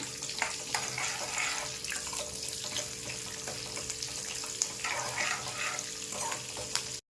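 Cumin and mustard seeds crackle and sizzle in hot oil as a tempering, a continuous busy spattering with small pops, close up and steady until it cuts off abruptly.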